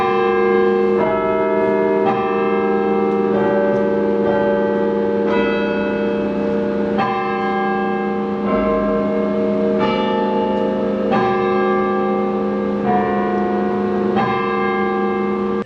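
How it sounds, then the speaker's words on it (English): Bells in the Ohio State University bell tower ring out Carmen, Ohio, a loud, clear chime melody with notes struck one after another in a slow, steady rhythm, each tone ringing on and overlapping the next. "if you ever hear songs being played from the bell tower, like Carmen, Ohio, then you know someone is up there playing the bells"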